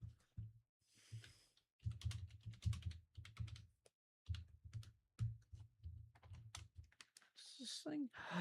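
Typing on a computer keyboard fitted with raised stands, rapid clustered clicks in bursts with brief pauses, close and fairly loud, with a person talking over parts of it.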